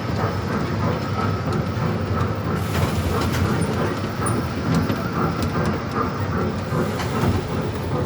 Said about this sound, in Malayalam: ടു കൊച്ചി ട്രെയിനിലാണ് ഇപ്പോൾ നമ്മളുള്ളത്